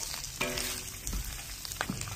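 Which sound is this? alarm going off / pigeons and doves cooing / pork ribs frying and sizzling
pork ribs frying and sizzling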